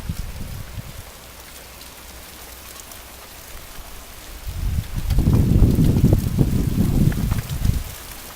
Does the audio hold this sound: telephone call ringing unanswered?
no